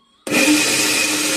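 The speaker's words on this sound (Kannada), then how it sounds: "ರುಬ್ಬನ ಮಿಕ್ಸಿಲಿ" Kitchen mixer grinder blending cooked rice, starting abruptly after a moment of silence and then running as a loud, steady whirring roar.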